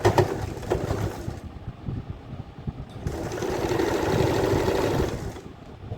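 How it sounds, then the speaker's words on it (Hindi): A sewing machine runs in two bursts as it stitches the cuff hem of a night suit, a close, buzzing whirr that stops briefly near the middle and then resumes. "अब हम यहाँ से सिलाई डालना शुरू करेंगे और घुमाते हुए पूरे राउंड पर।"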